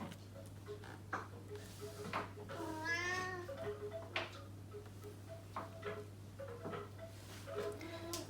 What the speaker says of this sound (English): I'm going to have to deal with my cat because he's going to scream for attention here.